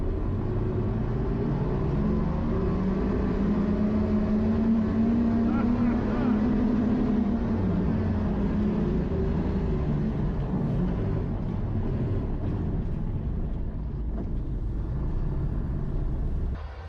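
Russian BRO electric ATV rated at 210 horsepower accelerating while driven, with a loud, continuous rumbling drive noise and a rising then falling whine, sustained throughout under a voice.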